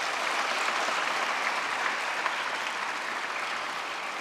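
Steady audience applause from a large crowd at a conference session fills the space, a dense continuous wash of clapping at moderate distance with no talking.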